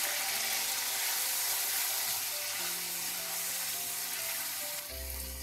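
Chicken shawarma marinade sizzles steadily in a pan, a constant frying hiss with faint stirring, with no talk.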